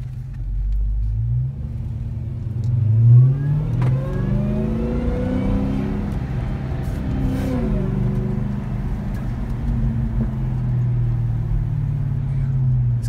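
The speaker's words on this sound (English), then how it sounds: "get to hear this amazing engine." A 2017 Dodge Charger SRT Hellcat's supercharged engine revving while driving, a loud deep rumble that climbs through the gears with rising pitch sweeps and shift breaks, heard from inside the car.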